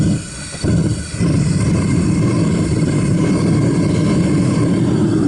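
A Devil Forge gas forge burner roars steadily with its throttle opened up for a copper melt, a loud continuous broadband rush that dips briefly near the start before settling into a full, even roar.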